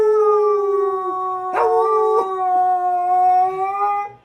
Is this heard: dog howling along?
yes